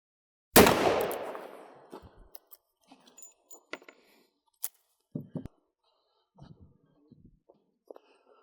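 .38 Special revolver firing a range round: one sharp, loud report with a ringing tail, followed by scattered light clicks and handling taps at close range.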